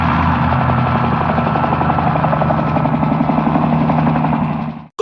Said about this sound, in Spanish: ¿Cómo se llama? ¡El helicóptero!